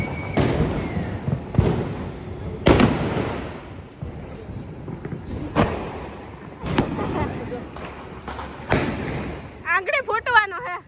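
Diwali firecrackers burst in a city street, sharp booming bangs scattered every second or two, some close and loud, with people talking and cheering between blasts.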